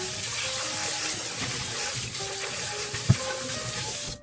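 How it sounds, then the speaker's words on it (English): Steady rush of warm tap water hissing into a sink while washing a Staub cocotte pot, with faint clinks and scrubbing and one brief knock. "we want to go ahead and wash this with warm water"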